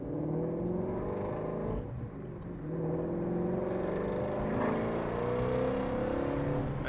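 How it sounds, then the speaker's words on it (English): A 2020 Ford Mustang Shelby GT350R engine revs and winds up through rising gears, a throaty exhaust note climbing in pitch, close and steady with brief dips between shifts. "We get to listen to the exhaust again."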